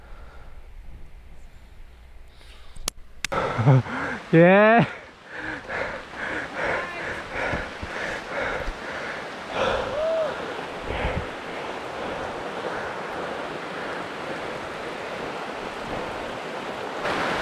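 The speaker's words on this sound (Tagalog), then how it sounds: "ang lakas na ng buhos ng ulan" Heavy rain pours during a mountain bike ride on a road in Antipolo, a dense, constant hiss mixed with wind buffeting the microphone, while a rider shouts briefly near the start.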